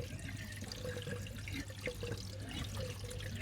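Water flows steadily through a koi pond filter's ball valve, which is set about three-quarters open. The flow makes a constant, faint rushing trickle over a low hum.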